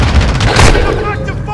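Dense, rapid gunfire from Call of Duty: Modern Warfare II multiplayer pounds close and loud throughout, with bursts overlapping and voices talking in between.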